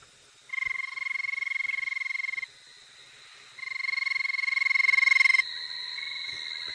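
Frog call played back for World Frog Day on a safari drive: two long, loud bursts of rapid buzzing trills a few seconds apart, each a steady pulsing rattle with a bright tonal edge, heard alone in quiet surroundings.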